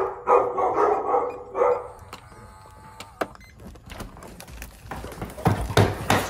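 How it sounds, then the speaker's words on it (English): Dogs bark a few times, loud and nearby at first, then scattered clicks and knocks with more barks toward the end. "What y'all barking at?"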